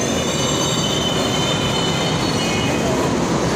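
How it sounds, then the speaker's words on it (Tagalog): Steady, loud rumble and high metallic squeal of a moving light rail train in the Philippines heard from inside a crowded carriage, with faint voices in the background. "And we're now inside the train. There's so much people."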